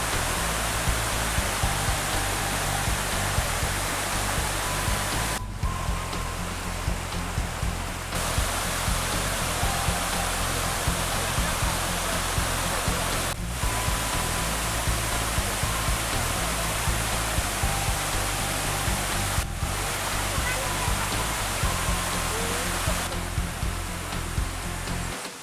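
A waterfall at a tourist site in South Sumatra, surrounded by natural rocks and green trees, roars as a steady broadband rush of falling water, continuous and even for the whole stretch with no voices.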